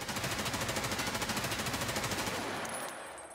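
Full-auto rifle fire from Escape from Tarkov, a steady rapid stream of close, loud shots lasting about two and a half seconds before cutting off into a fading tail.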